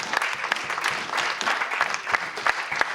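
A church congregation claps and cheers at a worship service: steady, dense applause with sharp individual claps standing out close by and a crowd murmuring under it, fairly loud throughout.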